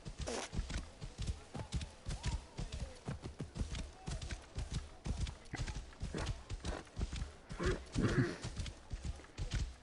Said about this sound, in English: so this is the horse that Shadia gets